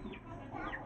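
Backyard hens cluck softly and steadily, with a faint higher call over continuous low farmyard noise, close by and moderately quiet.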